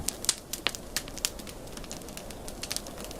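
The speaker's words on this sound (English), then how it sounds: "The fire crackles, bright and sudden." A castle library fireplace crackles with sharp, scattered pops and snaps over a soft steady hiss, heard close and alone.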